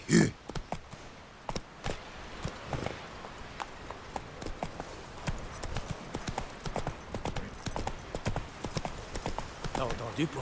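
Galloping hoofbeats from a horse in The Witcher 3, a rapid and continuous clip-clop pattern with a sharp burst at the start and a voice talking over part of the run.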